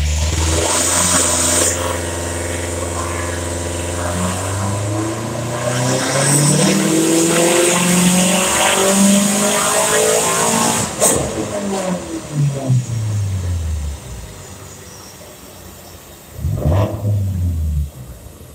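2020 Subaru STI on a dyno run, engine revving hard through the gears with rising tones, brief drops at each shift, a loud sustained pull that then winds down, and a short blip near the end.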